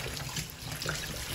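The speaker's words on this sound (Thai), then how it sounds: "ล้างไข่ให้สะอาด นี่ล้างนะต้องล้างนะไม่ล้างไม่ได้" Tap water runs steadily into a sink as eggs are rinsed clean before boiling, a close, continuous splashing stream with no voices.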